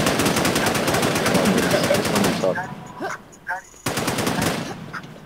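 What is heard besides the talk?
video game machine gun fire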